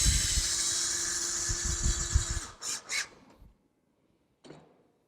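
A power drill with a 3/8 inch drive bit drives a lag screw into an aluminum railing post base, a loud buzzing whir for about two seconds, then a couple of short bursts and one brief final pulse.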